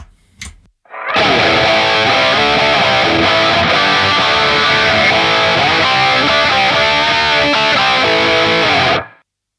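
Distorted electric guitar chords through a Line 6 POD GO Badonk amp model ring out loudly and steadily, thickened by a smeared, repeating Retro Reel tape echo, then stop sharply at the end.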